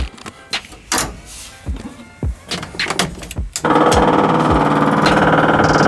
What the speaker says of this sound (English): Fuel pump prime of it